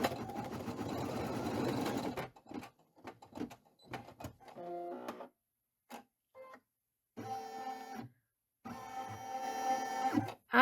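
An embroidery sewing machine stitches a small X button placement line on a vest, loud rapid mechanical whirring in short bursts separated by pauses.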